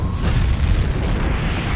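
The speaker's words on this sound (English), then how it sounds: "That is a big explosion" A big explosion in Splatoon's Alterna setting, a loud sustained booming roar with deep rumbling low end that fills the whole short span without any talk.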